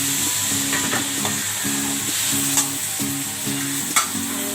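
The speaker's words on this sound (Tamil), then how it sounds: "தக்காளி நல்லா வதங்கணும்." Tomatoes sauté in a pan for prawn biryani, a steady close sizzle with a regular rhythm of stirring scrapes repeating roughly every half second.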